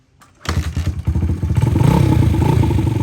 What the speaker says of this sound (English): Start her up and see how she rides. It's cold. See how many kicks it takes.